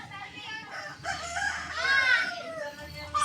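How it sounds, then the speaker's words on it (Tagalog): Roosters crowing with a few clucks mixed in, fairly faint and outdoorsy, calls overlapping across the short stretch, near a firewood cooking fire. "Tunog ng tunog yung mga manok."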